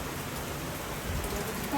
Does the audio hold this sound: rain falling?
yes